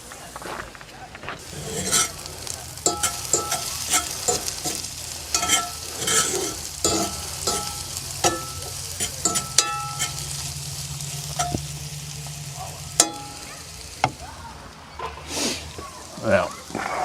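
Food frying in a pan at an Eisenhower State Park campsite, a steady close sizzle with scattered pops and crackles and utensil clicks stirring it, running under intermittent talk throughout.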